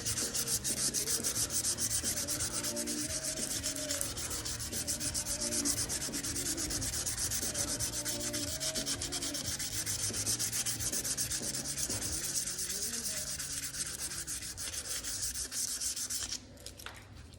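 Steady back-and-forth rubbing as an aluminum engine cover on an XS650 chopper is hand polished with a folded cloth and polish, a close continuous scrubbing with no speech.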